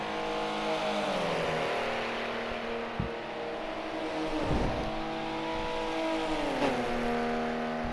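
Race cars at full throttle on the Monza oval roar past in a continuous high-revving whine, with engine pitch sweeping down as several cars pass close by in succession.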